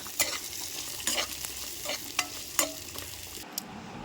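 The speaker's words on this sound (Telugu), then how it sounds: "దొండకాయలు పచ్చిమిర్చి బాగా సన్నగా తరుపుకొని నూనెలు అయితే డీప్ ఫ్రై చేస్తున్నాను అనమాట" Chopped ivy gourds and green chillies deep frying in hot oil, a steady close sizzle broken by sharp stirring clatters and scrapes of a utensil against the pan.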